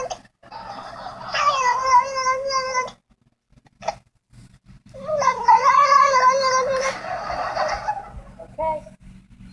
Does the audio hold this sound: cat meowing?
yes